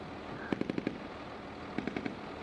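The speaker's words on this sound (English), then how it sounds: "You can hear the frickin' PKM fire in the distance." Distant PKM machine gun fire in Afghanistan: two short bursts of about five rapid shots each, faint and far off against steady background noise, with no talking.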